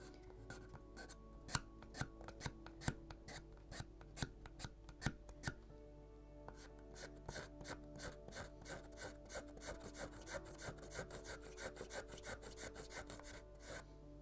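Hand sanding on a wooden Mayflower (1620) model ship beakhead, a 1:76 scale Model Shipways kit, with steady close rasping strokes in a quick repeating rhythm, louder and more even in the second half, with no talk.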